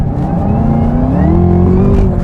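Engine of a 2023 Chevrolet Camaro SS 1LE revving up hard in sport mode, a loud, close, steadily rising roar with no talk over it.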